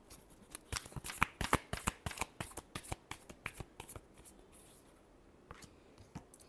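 A deck of tarot cards is shuffled by hand in a quiet room, giving a steady run of crisp riffling snaps and flicks that are close and fairly soft and ease off toward the end, with no voices.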